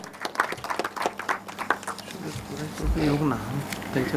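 Audience applause at a Goa Marathi journalists' association foundation day award ceremony, a dense burst of clapping that starts close and loud, then thins out as chatter and a voice rise underneath.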